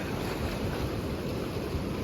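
Broad steady rush of river water released from Mettur Dam, a continuous roar with wind buffeting the microphone, even in level throughout with no voices.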